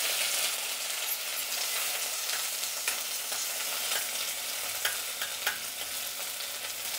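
Onion and curry leaves frying in a pan, a continuous bright sizzle with a few sharp crackles and stirring clicks, close and steady with no voices.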